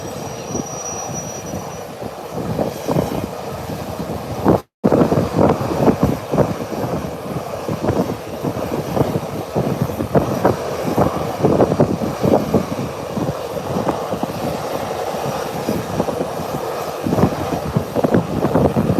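Airbus A319 airliner pushing back at an international airport, a steady loud broadband rumble and whine that carries on throughout, with a single brief dropout near the start.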